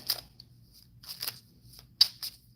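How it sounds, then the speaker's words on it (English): Tarot cards slide out of a deck in three short, papery swishes with brief snaps, close and quiet with pauses between pulls. "I will be pulling tarot cards during your actual message"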